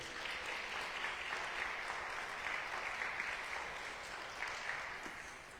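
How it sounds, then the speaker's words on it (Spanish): A church congregation applauds, a steady even patter of many hands clapping heard from a moderate distance, continuing throughout before tapering slightly at the end, with no talk over it. "¿Por qué no le dan un aplauso al Señor por la vida de Azucena?"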